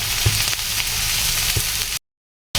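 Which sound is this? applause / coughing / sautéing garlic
sautéing garlic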